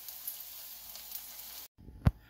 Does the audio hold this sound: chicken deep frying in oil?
yes